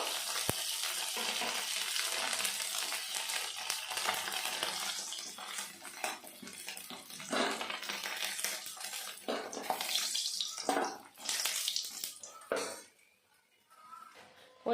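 Lentil dumplings (bori) frying in hot oil, a steady close sizzle and crackle with some stirring and scraping, easing off near the end.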